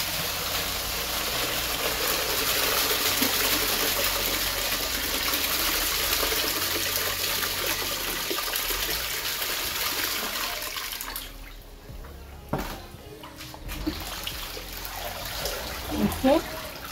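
Water holding catfish is poured out through a kitchen sieve, a steady trickling splash for most of the stretch that tapers off near the end into a few drips and clinks, with a person speaking over it.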